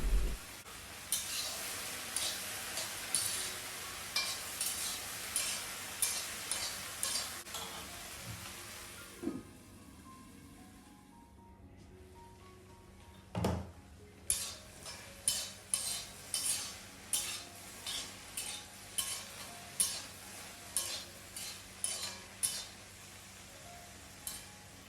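A utensil scrapes vegetables with turmeric being stir-fried for Kerala upperi in a pan, in quiet rhythmic strokes over a faint sizzle, pausing briefly midway before the steady stirring resumes.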